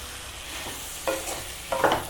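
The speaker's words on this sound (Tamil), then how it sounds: "நல்லா மிக்ஸ் பண்ணி விடுங்க." Boiled potato pieces for a potato poriyal sizzle in a pan with a soft, continuous frying hiss. Two scraping stirs of a spoon come through clearly, the second louder and longer, with no voices.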